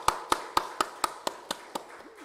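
A church congregation claps for its elders in a steady, evenly spaced run of about eight sharp claps over two seconds, fading slightly toward the end.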